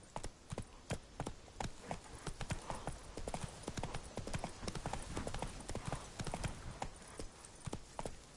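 Horse hooves gallop in The Witcher 3 video game, a fast, steady clip-clop rhythm that carries on throughout at moderate loudness, with no talk.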